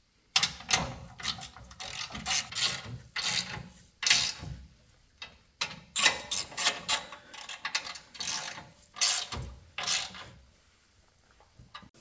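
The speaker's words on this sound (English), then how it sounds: "Then you'll take your 18mm socket and fasten the tow hook bolts back down again." An 18mm socket on a ratchet tightens the tow hook bolts of a 2019-2023 Ford Ranger during a Barricade HD stubby front bumper install, giving bursts of close, rapid clicking pawl strokes separated by short pauses.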